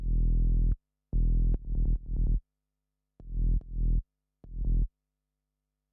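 A sub bass synth patch built in Ableton Operator with added harmonics and a shaper in the filter plays the same low note in several sustained, gritty bursts separated by silence, loud and alone.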